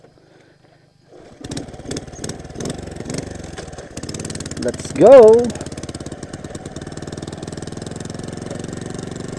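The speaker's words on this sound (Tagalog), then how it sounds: "Alright, isa-start na natin yung motor." A boat motor cranks with a few pulling starts, catches with a brief rising rev, then settles into a steady idle nearby; someone speaks briefly over it.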